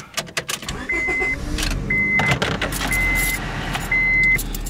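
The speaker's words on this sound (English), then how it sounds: "this 2004 Honda still starts like this" A 2004 Honda car engine cranks and starts after a few key and door clicks, then settles into a steady idle hum close by, with no speech.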